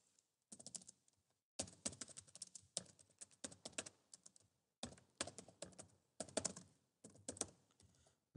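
Rapid typing on a computer keyboard comes in several dense bursts of close, crisp key clicks separated by brief pauses, entering a message into a text box during an IT exam task.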